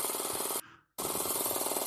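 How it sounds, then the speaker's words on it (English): A tattoo machine needle drives rapidly in and out, making a dense, steady buzz close by. The buzz cuts out briefly partway through, then resumes at full loudness. "The needle is going in and out at a speed that is like a drill."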